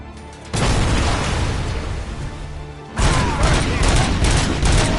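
Heavy gunfire in a RoboCop game roars as a dense, loud barrage that starts abruptly, briefly dips, then surges again with booming impacts, with little talk heard over it.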